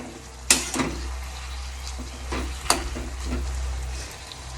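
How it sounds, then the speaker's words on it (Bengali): Vegetables frying in a pan for a Bengali bati chorchori give a steady close sizzle with a few sharp spatters and clinks, no talking. "আর দেখি কতদূর ভাজাটা হলো।"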